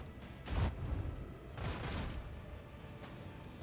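Torpedo launch in the Warhammer 40k: Rogue Trader video game: a broad rushing boom near the start, then a second swelling blast a second later, fairly quiet and without talk.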